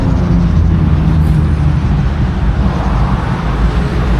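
A Harley-Davidson motorcycle passing on the SLEX highway near Mamplasan, a loud steady low rumble mixed with continuous traffic noise for the whole stretch, no clear approach or fade.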